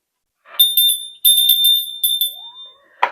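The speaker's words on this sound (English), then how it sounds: "Let's ring the bell." A small bell rings in a quick burst of bright, ringing strikes, pauses, then rings again in a rapid cluster, loud and close, with a short rustle at the end.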